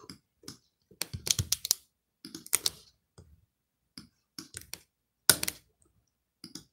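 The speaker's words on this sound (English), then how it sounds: "This fucking keyboard, bro." Typing on a computer keyboard, with bursts of close, sharp key clicks and clacks in irregular clusters separated by short pauses.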